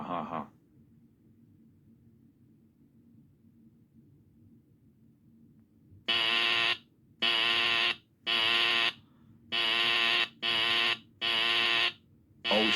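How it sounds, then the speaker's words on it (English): A house fire alarm blares in six loud, evenly spaced bursts after a few seconds of near quiet, each shrill electronic tone cutting off sharply between pulses. "Oh shit, the fire alarm is going off."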